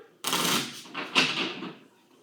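A deck of playing cards is shuffled for a math card game at a kids' club, with two quick riffling bursts, each sounding like a rapid fluttering rush, close by with no talk.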